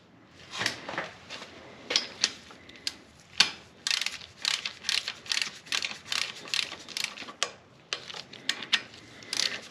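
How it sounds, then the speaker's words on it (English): A torque wrench set to 60 inch-pounds ratchets while tightening a bolt during timing chain work, making a long run of close, rapid mechanical clicks in uneven bursts, with no voices. "we're gonna get our torque wrench, set it to 60 inch-pounds, not 144."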